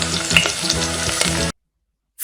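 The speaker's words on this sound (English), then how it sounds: "frying" Food frying in hot oil, a dense crackling sizzle with stirring, heard alone for about a second and a half before cutting to silence.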